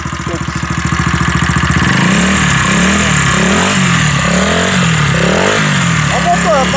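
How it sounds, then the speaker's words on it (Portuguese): A motorcycle engine idles with a steady putter, then revs up repeatedly in loud rising and falling bursts, close by. "Então vai, dá uma acelerada."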